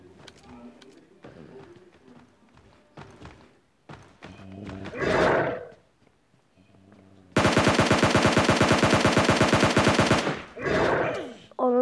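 Rapid automatic gunfire from a mobile zombie shooter game, a loud sustained burst of evenly spaced shots lasting a few seconds, with someone talking before and after it.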